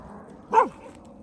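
One short bark from a dog up on a hill, loud and fairly close, standing alone against quiet background noise.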